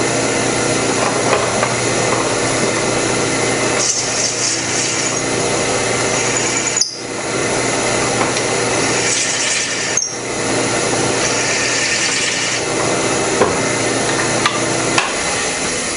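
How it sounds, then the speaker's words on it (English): A drill press runs steadily, its pen end mill squaring the end of a slimline pen blank held in a blank jig; a continuous loud machining whir with brief dips in cutting pressure, no talking. "I'm just going to simply hold this, turn on the drill press, and square up the end."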